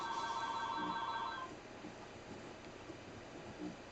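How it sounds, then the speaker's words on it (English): A landline telephone rings loudly at close range, its electronic trilling bell repeating for about a second and a half, then cutting off and leaving quiet room noise. "And there goes the phone, which I'm not going to answer because I'm fairly certain it's a scam phone call"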